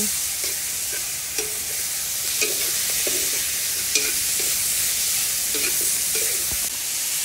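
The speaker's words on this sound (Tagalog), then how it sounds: "Ayan, gisa-gisa po natin. Halo-haluin po natin." Small pork pieces sizzle steadily in a hot pan for a Filipino bamboo shoot adobo, a constant loud frying hiss with occasional soft scrapes and clicks of a spatula stirring through the meat.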